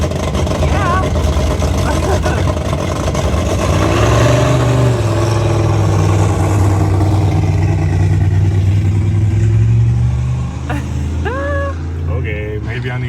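A vintage Cummins 220 diesel engine in a Peterbilt 350 truck runs for the first time, a loud, close, continuous rumble that stays steady before easing off near the end, with voices over it.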